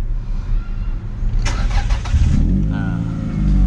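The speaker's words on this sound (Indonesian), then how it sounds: "Kita nyalain mesinnya" A used car's engine is started: a faint starter crank, then the engine catches and settles into a steady, fairly loud idle with a low rumble close by.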